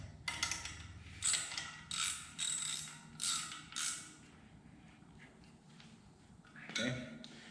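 Wheel lug nuts are tightened on a car brake lathe with a ratcheting tool, a series of short, sharp mechanical ratchet bursts repeated in rhythm, loud and close.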